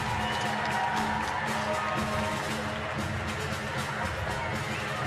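Spectators cheer and clap inside the Cortina Curling Olympic Stadium at a wheelchair curling mixed doubles gold medal match, a continuous crowd roar with scattered claps and whoops, some voices audible in the mix.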